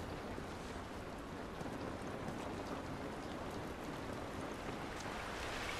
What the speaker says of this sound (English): It's raining, don't do us any good.